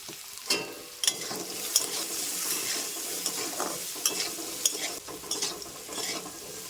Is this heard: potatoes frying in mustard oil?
yes